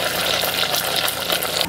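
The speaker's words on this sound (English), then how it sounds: "So we're gonna let that sizzle for a few minutes" Caramel sizzles steadily in a pan, a dense crackle close by, continuous and fairly loud with no talking.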